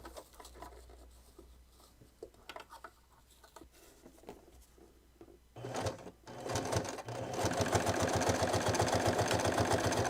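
Sewing machine stitching improvised snow pants, starting with light handling and scattered taps before the motor runs in a loud, steady drone over the final four seconds, with no talking.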